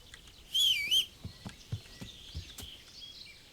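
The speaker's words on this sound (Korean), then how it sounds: "휘파람 불어서 올 것 같아." A person whistles once to call a horse in the video game Kingdom Come Deliverance, a short, bright rising and falling whistle followed by soft footfall-like thumps.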